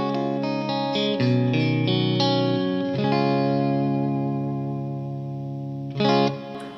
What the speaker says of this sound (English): This is going through the clean channel of my Mesa Mark IV right now with the EQ and everything set really flat.